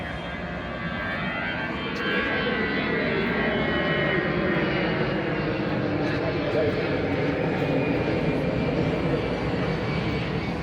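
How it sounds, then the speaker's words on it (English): An easyJet passenger jet passes overhead above a beachfront hotel in Playa d'en Bossa, Ibiza, a loud continuous engine roar that swells after the first couple of seconds and holds steady. "That's an easy jet going over."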